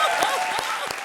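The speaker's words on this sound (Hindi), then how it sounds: "जोरदार तालियां बजाओ।" Dense applause from a crowd fills the whole moment, steady and loud, with a few voices faintly audible beneath the clapping.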